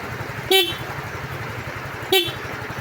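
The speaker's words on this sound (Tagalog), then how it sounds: "sa busina gumagana." A Yamaha Mio scooter horn gives two short, loud beeps about a second and a half apart over a quiet idling background.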